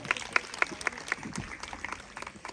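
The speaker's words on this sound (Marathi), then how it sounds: "प्रज्ञावरीसाठी जरा जोरात टाळ्या वाजवा" Audience applause at a village Home Minister game show, with scattered, fairly light clapping over about two seconds and voices faintly mixed in.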